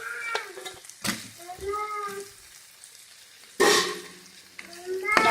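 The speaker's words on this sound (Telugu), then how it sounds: "ఇప్పుడు మనం ఇందాక ఫ్రై చేసి పెట్టుకున్న చికెన్ పీసెస్ని యాడ్ చేసుకోవాలి" Fried chicken pieces for chilli chicken dropped into sizzling masala in a pan, with frying hiss and stirring bursts heard close, interrupted by clear speech throughout.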